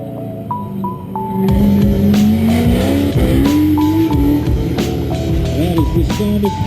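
Venom Cobra race car at an autocross event, its engine roaring loud and close with rising revs and rough, throaty pulses, along with brief tire squeal, while an announcer's voice carries over it.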